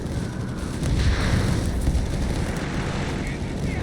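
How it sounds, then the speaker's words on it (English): Grenades burst amid battle in the World War II strategy game Company of Heroes 3, a dense, loud rumbling wash of explosions that swells after the first second and keeps churning without clear gaps. "Grenades being chucked here."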